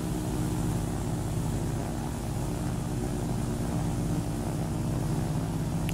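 In a flight simulator game an airplane engine drones steadily while the aircraft taxis, a constant low hum that stays level and unbroken for the whole stretch.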